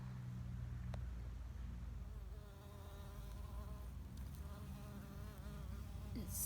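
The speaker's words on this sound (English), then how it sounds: "So the bee is trying to pollinate my" A bee buzzes steadily around yellow pumpkin flowers in a morning garden, its close drone holding for several seconds over a low background rumble, with no talking.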